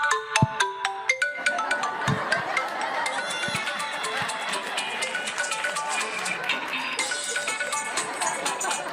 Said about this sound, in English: this is my dad's favorite ringtone